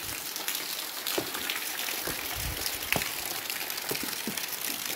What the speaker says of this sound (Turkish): yağmur iyi yağıyor